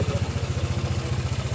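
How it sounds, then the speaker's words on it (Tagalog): Motorcycle engine sputtering and chugging in a quick regular pulse as it is being started, close and moderately loud with a clattery, uneven edge, no talking. "Nakabahan ako sa motor ko, baka hindi mag-start. Sana mag-start."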